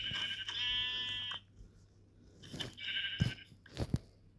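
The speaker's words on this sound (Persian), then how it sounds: "گوسفند هست." Sheep in the video game Minecraft bleat in two wavering, tonal calls, each about a second long, close and clear, with crunchy footstep-like clicks in between and near the end.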